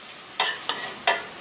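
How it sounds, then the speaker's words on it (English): Aromatics sizzle in a pot over low heat while a spoon stirs them in four quick scraping strokes, each burst bright and crackly over a soft background hiss. "Got a nice sizzling happening here."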